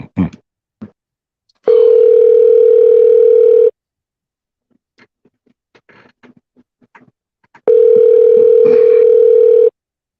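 Two long, loud, steady telephone ringback tones from an unanswered call, each lasting about two seconds, separated by a quiet gap with faint clicks and rustles.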